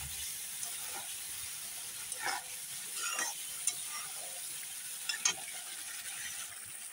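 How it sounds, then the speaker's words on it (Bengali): Masala spice paste with salt fries in a pan for a pabda fish curry, giving a faint, quiet sizzle and a few soft, scattered stirring scrapes. "লবণটা দিয়ে মশলাটা কষানো হোক"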